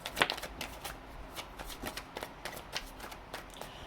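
Tarot cards are shuffled and drawn at close range, giving soft irregular riffling and slapping card sounds that are fairly quiet and continue throughout.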